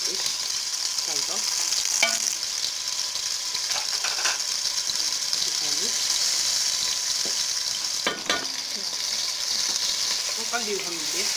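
Tomato fries in hot oil with a steady, close sizzle, and a utensil scrapes and clinks through the pan now and then.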